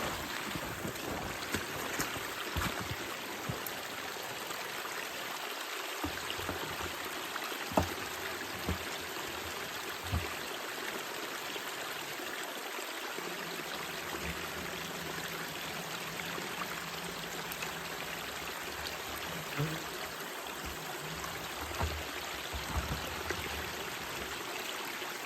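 Water flowing from a hose into a jug, a steady, continuous rushing wash that holds at an even level throughout, close and fairly loud, with no one talking.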